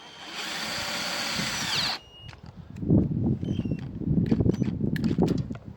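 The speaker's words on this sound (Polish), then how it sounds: "tak gruby, że nawet wkrętarka już wysiada" A cordless screwdriver drives screws into thick laminate with a loud, close, whirring buzz for about two seconds, then stops, followed by scattered knocks and handling clatter.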